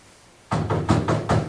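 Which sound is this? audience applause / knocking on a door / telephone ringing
knocking on a door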